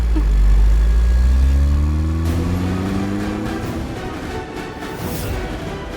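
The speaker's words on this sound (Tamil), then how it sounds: "ஃபர்ஸ்ட் கீரை போட்டு வண்டியை மூவ் பண்ணுமா" A car pulling away in first gear, its engine loud and close at first with a low rumble that rises in pitch as it accelerates, then fades slightly as it moves off.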